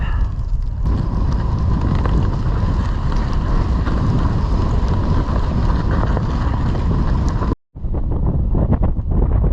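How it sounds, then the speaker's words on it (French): Strong wind on the Hardangervidda plateau in Norway roars steadily across the microphone, a loud continuous rumble and hiss that drops out briefly near the end before gusting back. "Il y a un peu de vent."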